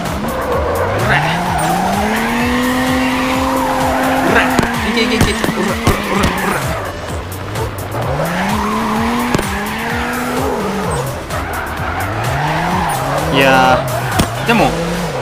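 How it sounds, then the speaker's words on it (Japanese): In CarX Drift Racing 2, a car's engine revs rise and fall in repeated swoops while tires squeal through long drifts, loud and continuous, with someone talking over it. "でもしっかりですねドリフトはできてますね"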